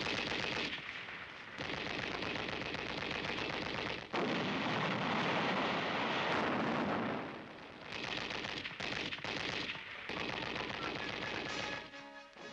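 Sustained enemy gunfire in a battle, rapid machine-gun bursts and heavy shots rolling almost continuously at loud, close range with brief lulls and no talking.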